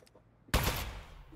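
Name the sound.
Aperture Science Turret firing in video game Aperture Desk Job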